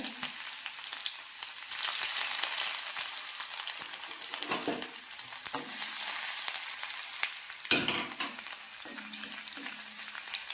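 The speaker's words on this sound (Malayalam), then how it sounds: "അപ്പം ഞാൻ അതിലേക്ക് ഈ ഇഞ്ചി വെളുത്തുള്ളി ഇട്ടൊന്ന് മൂപ്പിച്ചെടുക്കുകയാണ്" Ginger and garlic frying in hot oil for a papaya curry, a continuous close crackling sizzle with occasional soft stirring scrapes and clinks, no speech.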